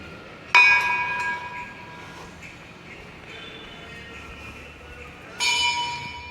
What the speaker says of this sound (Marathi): अजून एक घंटा आपण वाजूया इथे